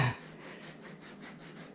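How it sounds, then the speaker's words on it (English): Quick, rhythmic scraping strokes of a sandpaper sanding stick working the corners of a marble sculpture under restoration, close and steady at a moderate level after a brief louder start. "Made a little sanding stick with sandpaper to get into the corners."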